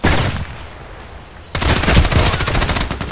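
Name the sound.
Sig Sauer MPX SMG gunfire in video game Contract Wars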